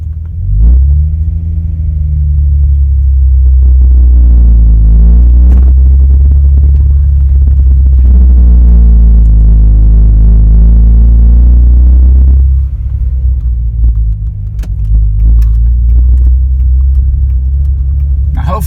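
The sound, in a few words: manual transmission car pulling away in first gear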